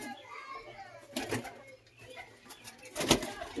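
Pigeons coo softly in a loft housing Andhra pigeons and their chicks, a low murmur beneath nearby chatter and children's voices, with a louder burst of activity near the end.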